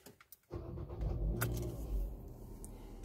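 A Renault Sandero with an automatic gearbox starts after a brief silence, its engine catching abruptly and settling into a steady, close idle.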